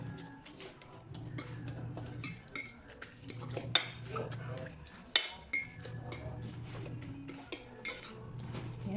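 Corn tuna stuffing for stuffed tofu being stirred in a bowl, with repeated clinks and scrapes of a utensil against the dish under quiet talk.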